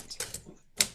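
A manual typewriter clatters with several sharp keystrokes in an uneven rhythm, a brief pause, then one louder strike, close and clear with no voices.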